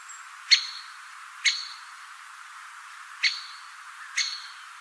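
Great spotted woodpecker giving its loud, clear keck call: four sharp, bright single notes spaced unevenly over about five seconds, each standing alone and fairly near against quiet background hiss.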